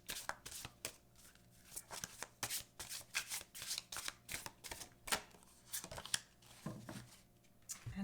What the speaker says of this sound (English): let's also pull a card from the Angel Power Wisdom cards